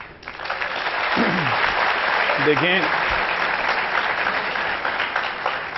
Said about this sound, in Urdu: یہ جو تالیاں بجی ہیں